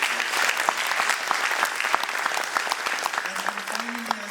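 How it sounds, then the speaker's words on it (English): Warm round of applause from an audience at a science centre play, dense and fairly distant clapping that carries on steadily, with a voice briefly rising near the end. "So a big warm round of applause to Milton Keynes Science Centre"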